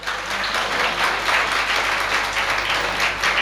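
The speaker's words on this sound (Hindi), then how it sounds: "इसके लिए अब ताली बजाओ।" A seated crowd at a Jain religious discourse breaks into loud, sustained applause. The clapping is full and continuous, with a low steady hum beneath it.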